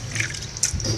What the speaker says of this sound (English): I do all my laundry by hand